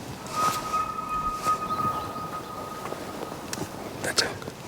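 An elk bugles near a bend of the Snake River, a thin sustained high whistle rising out of soft outdoor ambience, heard at a distance with faint murmuring voices and a few sharp clicks.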